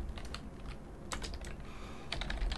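Fast, steady typing on a computer keyboard while coding, close and fairly quiet with crisp overlapping key clicks and no talking.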